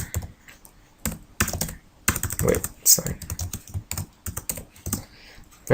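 Rapid, irregular keystrokes on a computer keyboard while entering commands in Cisco Packet Tracer, with bursts of typing separated by short pauses and light clatter up close.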